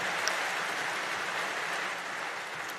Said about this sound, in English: It's nice to know what lines you can get applause for.